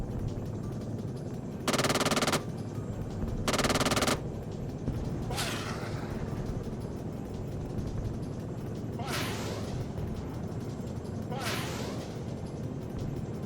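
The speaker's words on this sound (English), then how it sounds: "Okay, we are shooting at something." Gunfire in the military combat game Arma 3: two sustained bursts of rapid automatic fire, followed by three separate booming shots that trail off with echoing decay, set against a constant background rumble.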